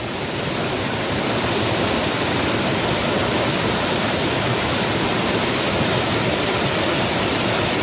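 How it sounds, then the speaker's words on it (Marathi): A steady, loud rush of fast-flowing river water, a dense continuous roar with no pauses, nearby and alone. "पाण्याचा प्रवाह बघा मित्रांनो किती आहे"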